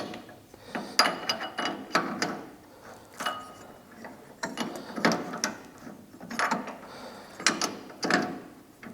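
Metal part being tightened and clamped in a CNC machine vise, giving repeated ratcheting clicks and mechanical clunks in an uneven rhythm, close and fairly loud.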